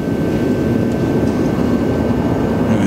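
Spark plug from an airplane engine firing in a spark plug tester with shop air pressure applied, a loud steady buzzing hiss running unbroken throughout.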